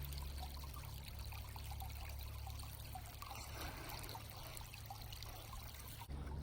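Creek water runs in a steady close trickle and gurgle during a spring creek walk, with a continuous low rushing bed beneath faint splashes, heard alone.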